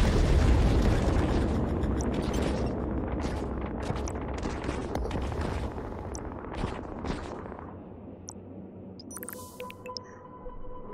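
Missile explosions in the vector-style defense game Utopia Must Fall: a dense run of booming, crackling blasts that gradually thin out and fade, followed by sparse electronic game tones.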